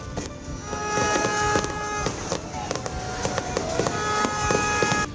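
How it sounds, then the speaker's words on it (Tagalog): A New Year's fireworks display bursts over a crowd of tourists, with repeated crackling pops and whistling tones over a dense outdoor murmur of people. "nagbanaag ang kahawaan sang matahom kag madinuagon nga fireworks display"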